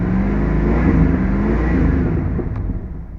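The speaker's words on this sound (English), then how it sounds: "revving up in park" A truck engine revs in park while the gearbox is checked, a loud steady mid-range roar that eases off toward the end, heard up close.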